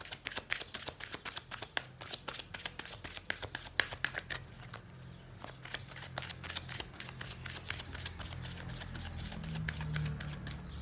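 Heart chakra oracle cards are shuffled by hand, with rapid rhythmic riffling and flicking close up, continuing steadily for several seconds with brief pauses.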